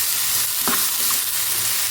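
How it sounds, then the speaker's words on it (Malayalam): Onions sauté in a pan with very little oil for a chammanthi, giving a steady close sizzle with a soft scrape of stirring partway through. "ഉള്ളിയൊക്കെ വഴന്ന് കിട്ടിക്കോളും"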